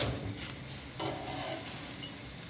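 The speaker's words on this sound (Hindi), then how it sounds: "अब इसको पलटाएंगे।" A radish (mooli) paratha is flipped on a hot griddle, with a soft thump and scrape at the turn followed by a steady, close sizzle and faint ticking crackles; no one speaks.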